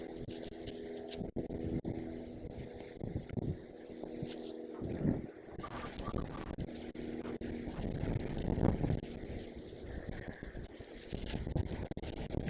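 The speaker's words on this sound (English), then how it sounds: "It is quite a windy day today." Gusty wind on a windy, sandy day outdoors, a continuous rough roar that swells and buffets the microphone in uneven surges, with no voices heard.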